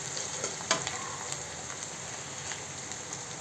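Onions sizzle and fry in a pan as the base for a shrimp dish, a steady close crackling hiss with a few sharper pops and stirring clicks, no voices.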